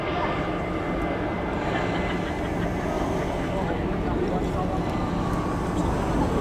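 A Vickers VC10 K3 jet flies past at the Cosford airshow, a steady, broad rushing engine roar that stays fairly constant for several seconds, with a commentator's voice talking over it.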